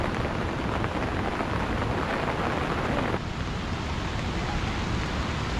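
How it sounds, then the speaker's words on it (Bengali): Rain near the Rongo river in a cloudy valley makes a dense, steady hiss of drops that continues throughout, mixed with some wind rush and a faint murmur of voices. "আবার শুরু হয়ে গেল বৃষ্টি।"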